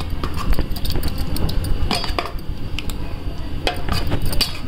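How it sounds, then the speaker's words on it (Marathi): A spoon stirs barnyard millet flour into half a litre of yogurt in a bowl, making close, repeated clinks and soft scrapes against the bowl with no talking. "हे आहे अर्धा लिटर दही आणि यामध्ये भगरीचं पीठ मिक्स केले"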